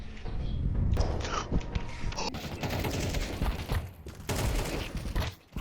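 Rapid bursts of video game gunfire crackle in dense volleys, loud and continuous with a few sharper shots.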